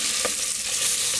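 Sausages sizzle in a hot pan on a wood stove inside a winter wall tent, a dense continuous crackle with a couple of faint scrape accents.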